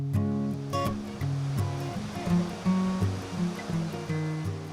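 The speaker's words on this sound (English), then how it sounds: "A short trip across the valley past a rather lovely waterfall is the Jinguoshu gold mine" A rather lovely waterfall in a valley near the Jinguashi gold mine in Taiwan rushes as a steady, broad wash of falling water, heard under a layer of tonal music with no voices.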